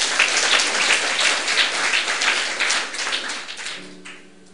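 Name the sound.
applause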